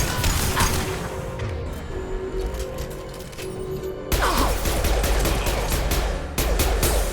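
Heavy gunfire in Mass Effect 2, rapid bursts of shots and crashing impacts, dense and loud throughout with a sharper volley toward the end.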